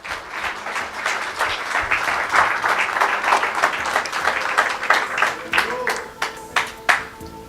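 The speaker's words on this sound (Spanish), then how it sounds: "Dele un aplauso al Señor." A church congregation breaks into applause, building to a dense roar of clapping that thins out into a few scattered claps by the end, with voices mixed in.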